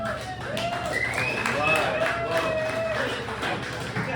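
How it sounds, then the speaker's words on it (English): Comedy club audience clapping and cheering for a stand-up comedian, a dense crowd roar holding steady throughout, with voices calling out over it. "That's an introduction clap"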